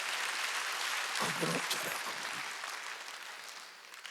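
A Korean church congregation at a Wednesday worship service claps together in a broad, steady wash of applause that swells mid-clip, with a preacher's voice speaking briefly over it.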